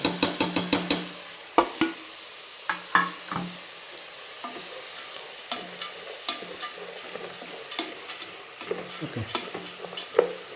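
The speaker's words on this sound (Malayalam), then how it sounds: "നെയ്യിൽ വരട്ടുകയാണ്. ലോ ഫ്ലെയിമിൽ വരട്ടുന്നു." Soaked millet and lentils being roasted in ghee over a low flame, heard as a faint background sizzle broken by irregular clinks and scrapes of a spoon stirring in the pan.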